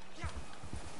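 Horse hooves clopping in Red Dead Redemption 2, a few quick thudding steps within about a second, close and loud, with a voice partly overlapping.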